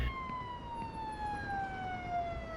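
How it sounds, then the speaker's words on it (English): A police car siren from the Police Simulator: Patrol Officers video game wails steadily and loudly for the whole stretch, its tone sliding slowly downward over a low road rumble, with no voices. "the siren still gets me every time because they've changed that"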